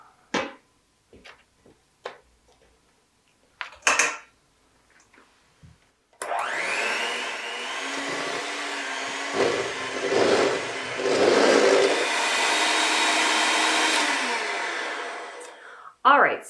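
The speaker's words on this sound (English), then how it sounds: "I don't know if you can hear the struggle of the mixer" An electric stand mixer labours through thick mint chocolate cookie dough, a loud, steady motor whine that dips and surges under the load for about ten seconds, after a few short, scattered voice sounds.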